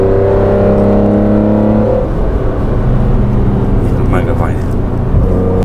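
A BMW M3 engine fitted with an aftermarket intake revs hard, rising and falling in pitch as a loud, steady mechanical drone under continuous nearby talk.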